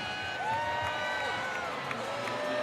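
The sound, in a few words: baseball stadium crowd cheering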